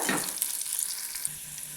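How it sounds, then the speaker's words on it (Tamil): Garlic, dried red chillies and curry leaves sizzle in hot oil as a tempering for Tamil paruppu kulambu dal curry, a close, bright, crackling hiss with stirring. "தாளிதம் ரெடி ஆகிட்டே இருக்குங்க"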